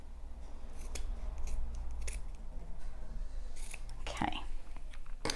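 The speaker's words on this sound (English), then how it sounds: "you can give the other seam allowances a nice trim just to reduce the bulk here" Scissors snip through the fabric seam allowances of a sewn passport folio, a series of close, crisp cuts spread irregularly across the moment, with a sharper rustle of cloth near the end.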